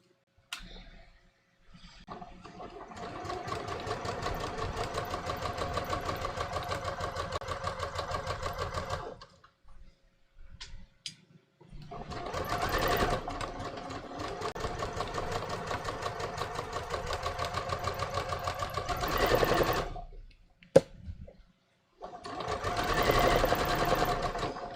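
A sewing machine stitches a seam on floral linen shorts in two long runs, steady rapid whirring with a short pause and a clunk between passes, close and fairly loud.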